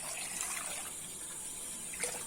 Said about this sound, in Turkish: Sularımı ilave ediyorum.